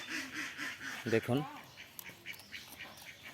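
A couple of ducks at a village pond give a short burst of quacks in the middle, fairly faint and mixed with a voice speaking nearby and light outdoor background.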